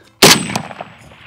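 A single sharp rifle shot from a DMR with heavy recoil cracks loudly and rings out over an open range, followed by a short fading echo and faint reverberation.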